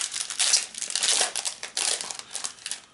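Foil and plastic wrapping of a Topps 2022 Series 1 baseball card blaster box being ripped open up close, a steady run of loud crinkling and tearing crackles with no talk.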